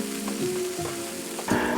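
Mince meat cooking in a pot with a little water at the bottom, a brief hissing sizzle with a few soft knocks and bubbling pops.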